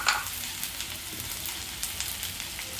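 Curry leaves crackle and sizzle in a hot pan for samiya upma while being stirred, a short, steady frying hiss with faint scraping.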